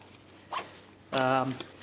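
A zipper on the belt strap pocket of a backpacking pack is pulled open close by: a brief scratchy tug, then a longer buzzing rasp of about half a second before it stops.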